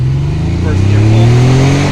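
A 1991 Porsche 911 Carrera 2 Cabriolet makes a first-gear pull. Its close, loud engine note climbs steadily in pitch for two seconds with a rough, throbbing texture and no speech over it.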